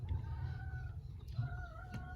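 Hens on a backyard farm cluck softly at a distance, with a few faint calls over a low rumbling background, other birds chirping thinly, no talk.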